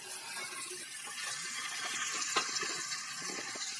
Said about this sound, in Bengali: এবার এটাকে হালকা নেড়ে চেড়ে ফুটিয়ে রাখা জলটাকে দিয়ে দিচ্ছে।